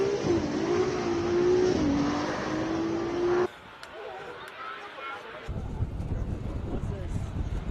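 A Ferrari 296 GTB launches at a Cape Town hill climb race, its engine note rising as it pulls away with a gear change, then cutting to a duller stretch and rough crowd or commentary noise.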